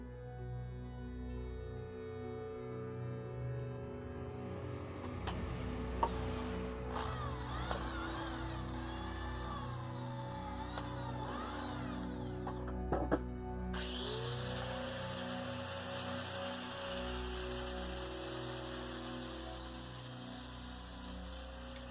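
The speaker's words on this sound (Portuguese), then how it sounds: "eu vou fazer furos nelas para passar o barbante" A power drill bores holes into the valves of a Japanese forge bellows, with a whining motor that rises and falls through several short bursts, followed by a steady high-pitched spin near the end.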